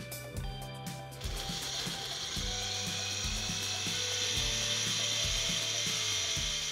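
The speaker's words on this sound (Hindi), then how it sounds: "इसको हम क्या करें, ब्लेंड कर लेंगे ताकि ब्रेड क्रम्स तैयार हो जाए" A kitchen mixer grinder blitzes bread slices into crumbs, producing a loud steady whirring roar over rhythmic low knocking as the pieces tumble against the jar, with no voices.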